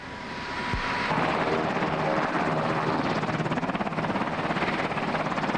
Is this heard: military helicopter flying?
yes